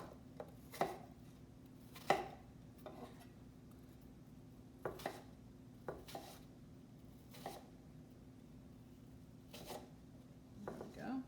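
Knife chopping through a peeled, cored apple into thin slices on a board: a dozen or so crisp, irregular cuts, close and moderately loud, over a steady low hum.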